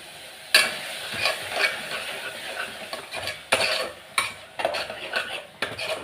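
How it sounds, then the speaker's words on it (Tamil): A small amount of tomato fries in a pan with ginger, garlic and onion, a soft sizzle broken by several sharp metal spoon scrapes and clinks against the pan, close and fairly quiet, without speech. "கிளறி விட்டுட்டே இருக்கணும். தக்காளி போட்டுக்கிறேன் கொஞ்சமாக"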